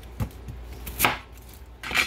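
A cordless electric food chopper chopping onion in short bursts: three brief whirring, chopping pulses spaced apart, fairly close and loud, with no voices.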